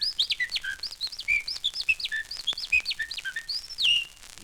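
A songbird in woodland repeats its call over and over, a rapid run of bright, high chirps and whistled notes close by and clear, continuing steadily without pause and with no voices.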